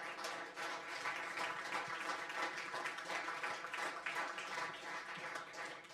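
A studio audience applauds guest Alex Grimbley at a FIFA 16 Ultimate Team interview event, a steady, dense wash of many hands clapping that holds evenly for several seconds without any voices over it.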